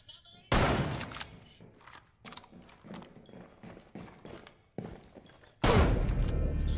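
Gunfire rings out in the Rainbow Six video game, loud bursts opening and closing the stretch with scattered single shots and rapid cracks in between, close and punchy over a quiet background.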